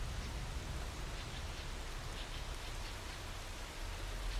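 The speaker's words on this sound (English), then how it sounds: "And there's my rain effect." Steady rain effect from a video game in development, a dense even hiss of falling drops spread across the range with a low rumble beneath, constant and close, with no talking.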